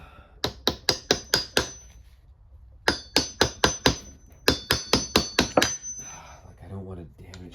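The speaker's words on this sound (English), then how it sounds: "I believe this is just gonna pretty much hammer on" Metal hammer strikes tapping a cap onto the driveline of a Porsche Cayenne, in three quick rhythmic bursts of five or six sharp, ringing blows each, close and loud, with a brief voice at the end.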